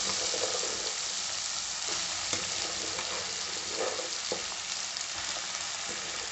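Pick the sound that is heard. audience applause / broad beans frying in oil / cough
broad beans frying in oil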